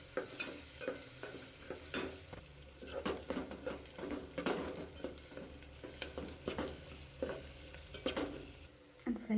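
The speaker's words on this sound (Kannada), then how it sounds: "ಈರುಳ್ಳಿ ಚೆನ್ನಾಗಿ ಫ್ರೈ ಆದಮೇಲೆ ಅದು ಗೋಲ್ಡನ್ ಬ್ರೌನ್ ಬರೋ ತನಕ ಫ್ರೈ ಮಾಡ್ಕೋಬೇಕು." Onions frying in a pan toward golden brown for chicken biryani, a constant sizzle broken by repeated scraping stirs of a spatula, close and fairly quiet, with no talking.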